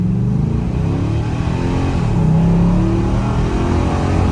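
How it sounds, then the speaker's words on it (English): A 2021 Nissan Titan Pro-4X with a 5.6-liter V8 revs in a steady, loud, close low rumble that swells slightly midway, with no talking. "A nice V8 rumble"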